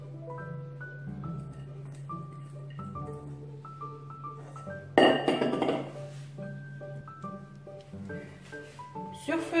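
A metal saucepan and utensils clink and clatter on a stove several times, with a louder rattling burst in the middle, over a low steady hum.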